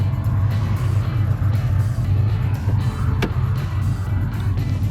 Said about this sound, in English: Let's get back in the old truck and get headed on down the old dusty road